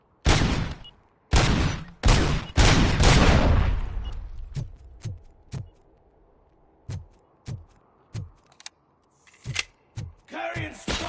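Loud gunshots from the RoboCop video game: heavy booming blasts in quick succession at first, then sharper isolated single shots spaced a second or so apart, with a voice speaking near the end.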